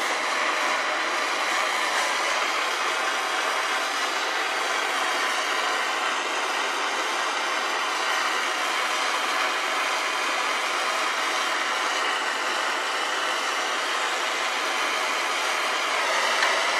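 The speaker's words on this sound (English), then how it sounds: "Take your propane torch." A steady, loud roaring hiss of a propane torch flame, continuous and unbroken throughout, with no voices.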